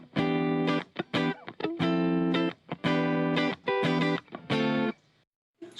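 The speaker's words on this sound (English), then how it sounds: "It's quite a good little compressor actually." An electric guitar runs through the compressor effect of a BOSS ME-50 multi-effects unit, playing a rhythmic pattern of sustained, squashed chords and short stabs with even loudness, then falling silent at the end.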